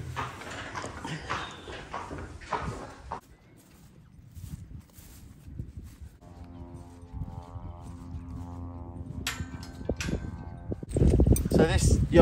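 Hooves of a young quarter horse wearing front shoes clip-clop in a steady walking rhythm at moderate distance, with people talking over and around them and a louder burst of noise near the end.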